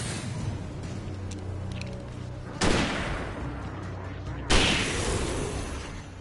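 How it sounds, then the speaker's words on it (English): Explosion and gunfire in the horror shooter game Alan Wake, a dense roar of firing punctuated by two sharp blasts, loud and continuous throughout. "Explosion!"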